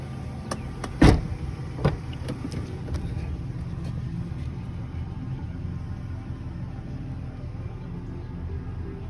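Power windows on a 2003 Nissan Xterra run with a faint motor whir inside the quiet cabin, marked by a sharp click or two early on, then a low steady hum.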